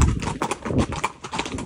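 Horse hooves clip-clop on a cement street in a rural ranch town, a quick, steady run of close, loud hoofbeats with no talking.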